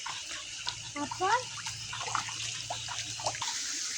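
Water splashes and sloshes as someone wades through a flooded field, the steady wet churning running beneath someone talking throughout.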